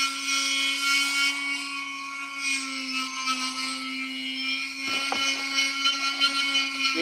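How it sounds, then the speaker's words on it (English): Dremel cutoff blade cutting a bone guitar pick, a steady high whine with a strong constant hum, brief scraping bursts near the end, close and alone. "Use my Dremel cutoff blade."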